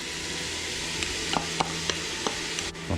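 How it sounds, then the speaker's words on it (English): Green pepper, jalapeno and onion sizzle in a pan of browned, drained venison for chili, a soft steady frying hiss broken by several light stirring scrapes and taps. "I'm going to add my green pepper, my jalapeno, and the rest of the onion"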